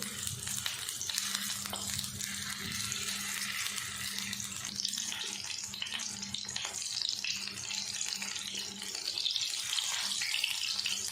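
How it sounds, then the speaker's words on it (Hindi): Chicken kafta kababs fry in a pan over low heat, a continuous, even hiss of sizzling oil that carries throughout without pause. "हम इनको पलटते पलटते ही फ्राई करेंगे।"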